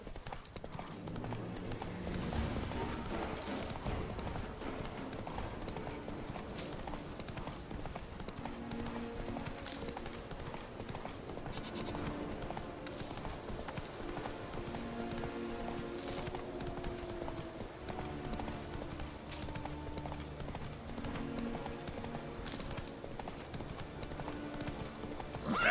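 Geralt's horse trots through the Witcher 3 video game world, hooves clip-clopping in a steady rhythm throughout, with game music and ambience underneath and an occasional quiet voice.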